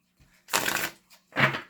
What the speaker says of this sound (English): Quick shuffle up, even though I shuffled all of the decks, so I probably won't shuffle those ones